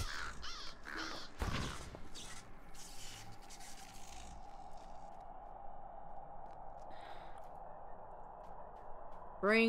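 Caws from birds in Lord of the Rings Online at the Walls of Moria sound in a few short bursts amid scraping, rubbing game sounds, with a sharp cry near the end.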